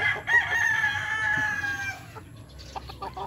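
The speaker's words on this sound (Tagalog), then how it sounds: "Yan, binitawan ko lang yung mga manok." A rooster crows loudly, followed by scattered clucking from chickens just released nearby, ending in a few short clucks.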